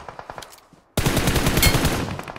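Gunfire in a shooter video game: a string of quick, separate shots, then a loud, dense burst of rapid automatic fire close by that carries on to the end.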